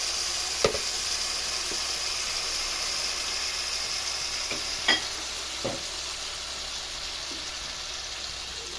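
Meatballs with garlic fry in a pan for a Turkish meatball pasta casserole, a soft steady sizzle under a few light clinks and scrapes of stirring, with no voices.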